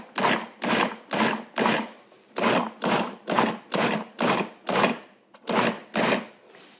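A food processor pulsing chickpea salad with Tajín, about eleven short, evenly spaced whirring bursts with brief pauses between them, close and clear.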